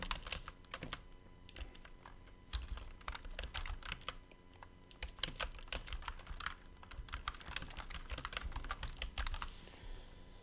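Computer keyboard keys clatter in quick, uneven bursts as an email address is typed, close and clear with short pauses between runs of keystrokes.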